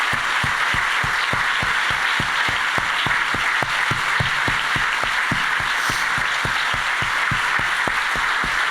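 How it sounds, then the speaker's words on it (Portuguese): A church congregation claps continuously, with evenly spaced loud claps over a dense, steady wash of applause and no talk over it. "Vamos aplaudir Jesus."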